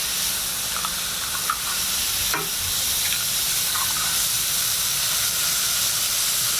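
Steaks and fried eggs sizzle in a pan as a steady, loud hiss of frying and steam, with a few faint clicks and a brief scrape partway through.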